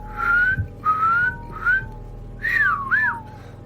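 Eerie whistling in an audio drama: a series of five clear whistled notes, some gliding upward and the last ones curling in pitch, spaced across a few seconds over a faint low hum.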